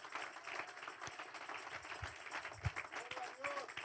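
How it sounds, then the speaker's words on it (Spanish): A church congregation claps for the Lord during an anniversary service, a fairly faint, steady patter of many hands that carries on without pause. "Denle un fuerte aplauso al Señor."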